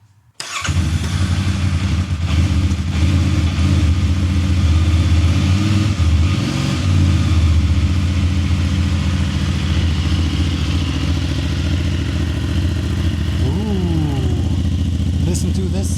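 A CFMOTO 450 MT (Ibex 450) adventure motorcycle engine fires up on its first start and settles into a steady, loud, close idle with a low throbbing rumble and a few brief blips, while voices chatter faintly underneath.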